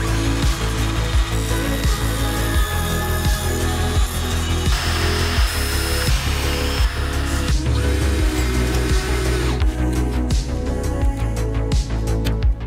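A power drill bores screw holes through a stack of wooden boards for a budget camper van build. The motor whines loud and steady and close, with a rough grinding texture that shifts as the bit works through the wood.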